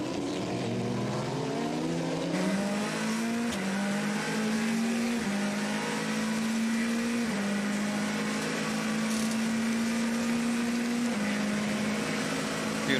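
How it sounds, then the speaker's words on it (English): Race cars at the 2014 24 Hours of Le Mans roar past with a loud, sustained engine drone, the pitch shifting in steps as gears change, with no talk over it. "Beautiful sound from the cars."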